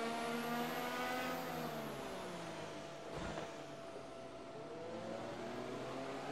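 F1 hybrid race cars in the Assetto Corsa racing game, a continuous high-pitched engine whine with rising and falling pitch as cars pass, loud and sustained with no talk.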